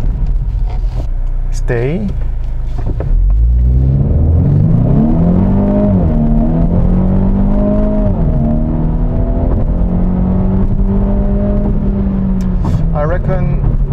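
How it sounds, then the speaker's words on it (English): Hyundai Veloster Extreme Driving Edition, a Korea-market special model, accelerates hard from 0 to 100 inside the cabin, its engine note rising through gears in a loud continuous drone, with someone talking over it. "And check this acceleration, 0 to 100."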